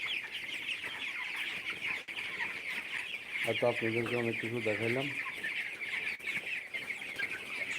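Dense flock of broiler chickens clucking and chirping steadily throughout on a poultry farm, with someone speaking over them in the middle.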